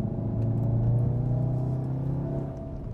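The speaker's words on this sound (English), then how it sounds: "the driver can hear what the engine is doing" Inside a 2015 VW Golf R with a turbocharged four-cylinder TSI engine and DSG gearbox, a steady low engine drone and road rumble holds throughout, slightly building and easing under way.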